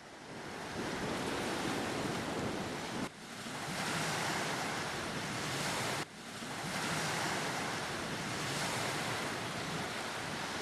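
Waves roll onto a Baja beach in a steady, hissing surf roar mixed with wind, with two abrupt dips in level, and no one speaking.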